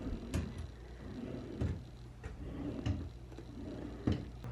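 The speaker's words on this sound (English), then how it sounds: "Here are the drawers, nice deep drawers if you need them." Hotel room drawers slide and bump open and shut, several quiet knocks and thuds spaced over a few seconds against a low room hum.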